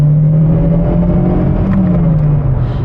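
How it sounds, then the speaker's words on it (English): A VW Corrado G60 engine, 160 hp, revs hard and steadily climbs in pitch as it accelerates, loud and close throughout. "when the turbo kicks in, the car is just alive"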